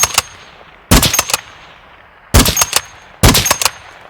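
Sniper rifle fire in the Call of Duty DMZ video game: four loud, sharp shots, each a close crack trailed by a brief echoing tail, separated by pauses of about a second, with no talking.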